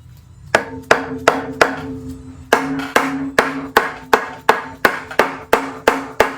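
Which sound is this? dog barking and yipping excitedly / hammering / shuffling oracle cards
hammering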